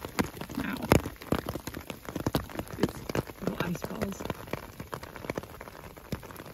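Hail pelting an umbrella high in the exposed San Juan Mountains, a dense irregular patter of sharp ice hits crackling close by, steady throughout with no talk.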